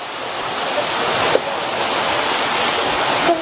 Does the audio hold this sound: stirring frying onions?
no